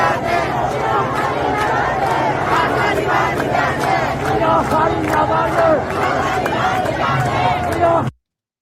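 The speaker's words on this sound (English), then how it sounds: "people are chanting Javi" Large protest crowd chanting the name Javi in loud, rhythmic unison, a roaring mass of voices with shouts rising over the din, sustained and close before cutting off abruptly at the end.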